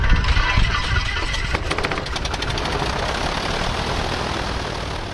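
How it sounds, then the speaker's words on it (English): A low wing kit plane's engine cranks and catches, a loud rattling start that settles into a steady, rough idle throughout. "Okay, I'm gonna start the engine."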